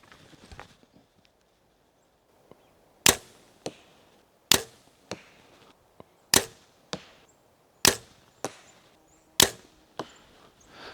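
A bow shooting fixed-blade broadhead arrows into a target at about 45 yards: five sharp releases, each followed shortly by the crack of an impact, spaced out over a quiet background.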